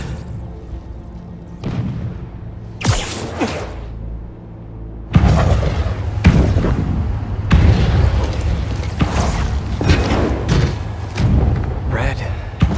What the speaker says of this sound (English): Fireworks. We gotta go.